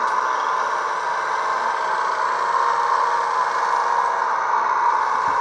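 A 1/14 scale RC US135 excavator's electronic driving sound played through its onboard speaker: a steady, even, buzzy engine-like hum that stays level throughout, with no talk.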